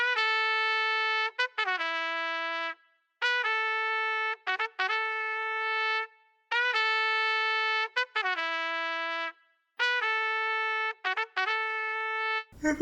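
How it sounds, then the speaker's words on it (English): Sampled synthetic horns from the Arcade plugin in FL Studio play a choppy, repeating melodic phrase. Short stabs and held notes are broken by brief gaps. The sound is clean and dry, with nothing else playing. "I wanted to add some kind of horns"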